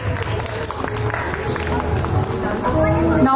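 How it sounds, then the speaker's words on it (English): Audience applause at a school annual day in New Delhi, a broad steady wash of clapping from a large crowd with a background murmur of voices, holding at an even level throughout. "Audience, let's have a huge round of applause as it will encourage the kids."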